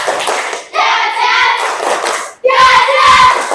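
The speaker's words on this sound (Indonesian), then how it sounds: "tepuk semangat" A classroom of children performs the tepuk semangat chant, shouting loudly in unison in two bursts with a brief pause between, and hand claps blend into the voices.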